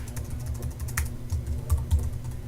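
Close, quiet typing on a computer keyboard, with irregular soft key clicks in small bursts over a low background hum and no speech.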